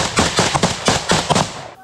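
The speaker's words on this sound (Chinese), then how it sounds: "一发现俄军踪迹，举枪开火。" Rapid gunfire from Ukraine's Third Assault Brigade fighting Russian troops near Bakhmut, with about seven sharp, loud, close bursts in a quick uneven rhythm and a brief faint tail at the end.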